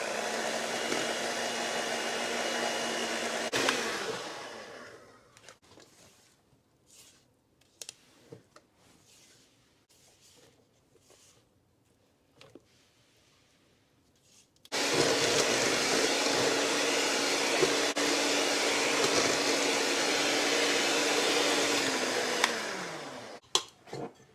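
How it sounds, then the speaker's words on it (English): An electric hand mixer whirs loudly while mixing caramel icing for cinnamon rolls, running for about four seconds, pausing amid scattered kitchen clatter, then running steadily again for roughly eight seconds before spinning down. "we're going to come in with a hand mixer"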